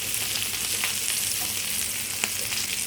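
Vegetables and crushed chili frying in a pan for a beef roast, a loud continuous sizzle with a few sharp scrapes of stirring.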